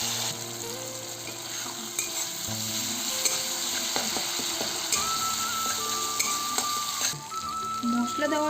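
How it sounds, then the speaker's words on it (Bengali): Spice paste for a vegetarian gathi kochu (taro) dish is sautéed in a pan, with a soft continuous sizzle and scraping stir strokes under background music. "এবারে এই পেস্টটা দিয়ে দেবো ভালো করে কষিয়ে নেবো"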